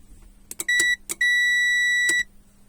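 Treadmill control board beeper emitting a handful of sharp electronic beeps, short chirps followed by one long sustained tone and a final brief beep, close and clean against near silence.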